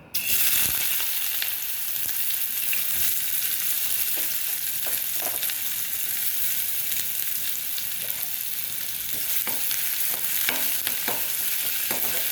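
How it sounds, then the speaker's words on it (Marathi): Chopped onion frying in a pan, a loud, continuous crackling sizzle with occasional scraping taps of a stirring spoon, heard close and without any voices. "त्यासाठी आपण पहिले कांदा टाकत आहोत।"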